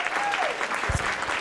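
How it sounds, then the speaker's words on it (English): Brief burst of audience applause at a redistricting forum, a close, busy patter of clapping with a faint whistle riding over it. "Can everybody please give us a round of applause for Delegate Marcus Simon?"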